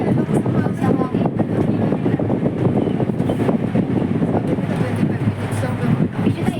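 Strong wind buffets a cable car gondola on the ride up to the Big Buddha on Lantau, a constant loud roaring rush with low rumble throughout, steady and close to the microphone.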